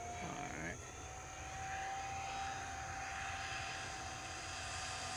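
An E-flite RV-7 1.1m RC airplane with an upgraded motor flies a lap, its steady electric propeller whine droning continuously at moderate distance against outdoor background noise.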